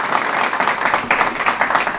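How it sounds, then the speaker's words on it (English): A grant award audience gives another round of applause, a dense patter of clapping that rises and falls over two seconds, fairly close and with no speech over it. "I think another round of applause for the work you did"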